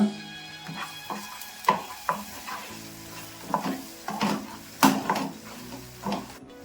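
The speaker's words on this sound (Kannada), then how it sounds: "ಇವಾಗ ಇದನ್ನೆಲ್ಲ ಒಂದ್ಸರಿ ಮಿಕ್ಸ್ ಮಾಡ್ಕೊಂಡ್ಬಿಡೋಣ." Onion pickle mixed with turmeric and chili powder is stirred in a pan, with repeated close scraping strokes of a spoon over a light sizzle. The strokes come in an uneven rhythm and nobody speaks.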